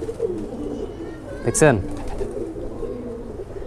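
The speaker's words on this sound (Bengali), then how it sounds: "আমি যদি অন্য একটা কবুতর আপনাদেরকে দেখাই, যেমন এই যে একটা লাল খাকি কবুতর" A red khaki foreign pigeon on a rooftop gives one brief, close coo midway while someone talks.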